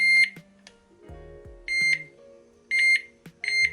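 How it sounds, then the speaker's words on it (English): A DAM TF 2+1 fishing bite alarm set sounds off in short, sharp electronic beeps, four clear bursts with gaps between, mixed with faint clicks and handling noise at close range. "both bite alarms sound the same"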